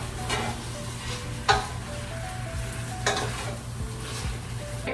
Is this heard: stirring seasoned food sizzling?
yes